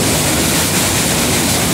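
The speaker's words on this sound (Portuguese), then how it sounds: "Olha a força da água." Water rushing hard out of open floodgates at the outlet of the Castanhão reservoir, a loud, steady broadband roar with no break, close and filling the whole clip.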